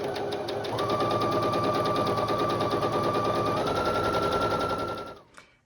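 A sewing machine stitches a quilt block in one steady, continuous run of rapid mechanical rattling with a faint whine, heard up close for about five seconds before stopping abruptly.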